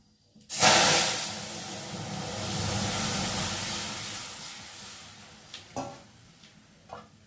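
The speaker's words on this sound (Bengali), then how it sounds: "এখন এই যে দেখতে পাচ্ছ ডালটাকে দিয়ে একটু ভালো করে ফুটিয়ে নেব" Dal added to a hot pan of fried dried red chillies and mustard seeds sends up a loud, sudden hiss and sizzle that settles into a steady frying rush, with a few sharp pops near the end.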